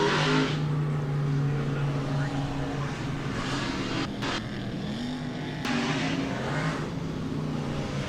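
Dirt track race cars at Volusia Speedway Park during the DIRTcar Nationals Finale drone steadily as the field winds up, a loud continuous engine roar with shifting pitch, a commentator talking over it throughout.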